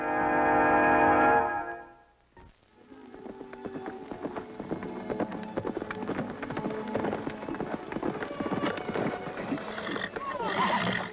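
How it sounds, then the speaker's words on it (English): A great wild horse neighs and whinnies loudly up close, followed by hoofbeats and a busy outdoor scene with shifting whinnies and clatter continuing to the end. "a great wild horse and the only person on earth who can ride him"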